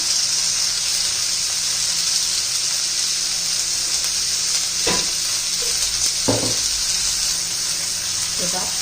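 Chopped onion and pavta beans fry in oil, a loud, steady sizzle that fills the background, with occasional clatters of a spatula stirring against the pan.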